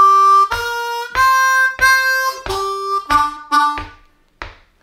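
A blues harmonica plays a turnaround lick, a string of bright, reedy draw and blow notes with bends in a steady pulse, close and loud, ending on short fading notes.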